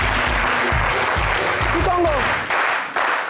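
Studio audience applause on a French talk show, loud and close, with bursts of clapping and a rhythmic low thumping beneath, while a voice briefly rises over it.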